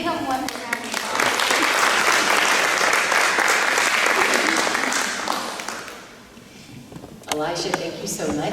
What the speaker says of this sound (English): Let's give him one round of applause.